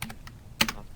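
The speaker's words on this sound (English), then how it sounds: "It looks like we typed that date" A short burst of typing on a computer keyboard enters a date into an Excel spreadsheet, with several quick, close, crisp key clicks in about a second and no speech.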